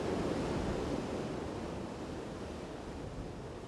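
Thundering Norwegian waterfalls pour down granite walls in a steady, dense roar of rushing water that stays loud and unbroken throughout, with no voices.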